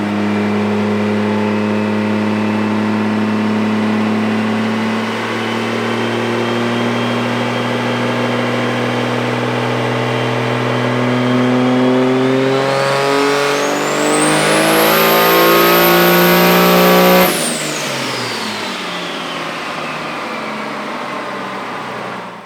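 A 2021 Cummins diesel truck engine fitted with a 72mm turbo runs loud and steady, then climbs into a rising high turbo whistle that peaks, holds briefly and cuts off sharply as the revs drop back to a rumbling idle.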